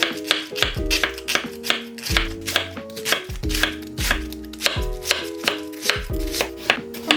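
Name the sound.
knife thinly slicing cabbage on a cutting board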